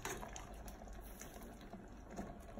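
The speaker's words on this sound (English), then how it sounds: "We'll rinse them under cold water." Cooked lasagna pasta rinsed under a cold kitchen tap, a faint steady splash and gush of running water with small bursts, no talking.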